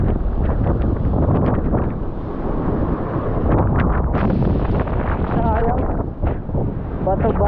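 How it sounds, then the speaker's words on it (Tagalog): Strong wind gusts loudly across a rocky shoreline fishing spot in the Philippines, a continuous rough rumble with a voice faintly audible underneath. "kasi ang lakas ng hangin"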